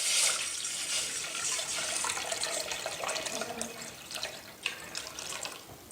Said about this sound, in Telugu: గిన్నె పెట్టుకొని వాటర్ పోసుకోవాలి